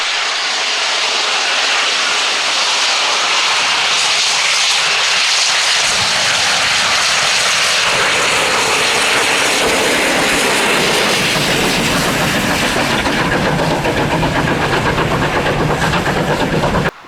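Heritage railway locomotive L92 runs light engine through Quorn and Woodhouse station during a gala, its loud, steady mechanical roar swelling as it passes close by, with no voices.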